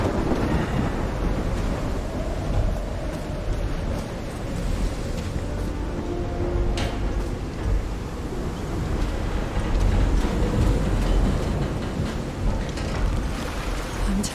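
A thunderstorm rumbles and rolls along a shore in Call of the Sea, with steady wind and surf wash and a low thunder swell running throughout.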